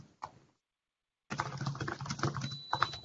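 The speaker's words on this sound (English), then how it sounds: "Whoever is typing vigorously, mute himself or herself." Someone types vigorously on a computer keyboard during a remote meeting, a dense close clatter of keystrokes after a brief silence, with a faint tone underneath.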